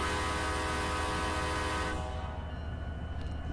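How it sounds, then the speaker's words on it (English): A K5LA horn on a CSX F40 locomotive in the Run 8 train simulator game sounds loud and close as one sustained multi-tone blast, then cuts off into low rumbling rail noise. "Also got a new K5LA for the occasion, recorded from one of the F40s in the CSX fleet"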